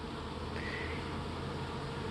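Honey bees buzz around a hive while a summer nuc is installed, giving a steady, even drone that holds at a low level throughout with no voices.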